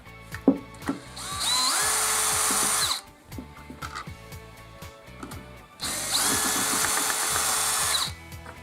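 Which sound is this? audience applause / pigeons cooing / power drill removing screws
power drill removing screws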